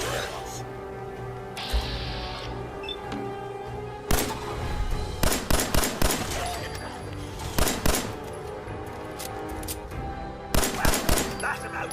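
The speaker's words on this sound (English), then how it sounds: "It appears someone is shooting at us." Gunfire in the video game Fallout 4: repeated sharp shots in quick bursts of three or four, loud and close, over a steady game background with speech.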